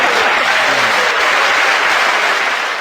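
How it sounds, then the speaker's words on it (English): Audience applause for a guest at the end of a show, a loud continuous wash of clapping from a crowd, steady and unbroken, fading slightly at the end. "How about we give Skip Drelass another round of applause for joining us"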